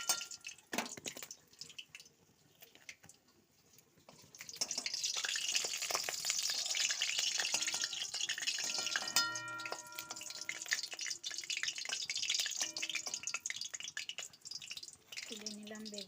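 Eggplant fritters (beguni) made from home-grown eggplant fry in hot oil in a wok, giving a faint, steady sizzle with a few light clinks and drips.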